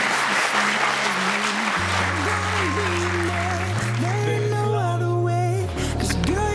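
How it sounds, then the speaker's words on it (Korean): Wedding guests applaud the newly married couple at a Korean ceremony, a steady broadband wash of clapping throughout, with strong sustained tones from music or feedback running underneath. "큰 박수 부탁드립니다."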